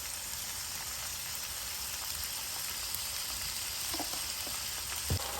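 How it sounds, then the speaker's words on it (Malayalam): Chopped onions and potatoes sauté in a hot pan, giving a steady, close sizzle, with a few faint scrapes of stirring near the end and no talk. "ഇനിയും ഇതിലോട്ട് ഉരുളക്കിഴങ്ങ് കൂടി ഇട്ട് ഒന്ന് വഴറ്റിയിടും."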